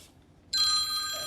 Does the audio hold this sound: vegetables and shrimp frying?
no